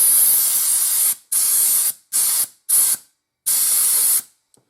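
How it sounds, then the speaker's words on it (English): Close-up compressed air blasts debris off semi-auto shotgun parts in five sharp, loud hissing bursts of uneven length, separated by brief silences. "take your compressed air and kind of"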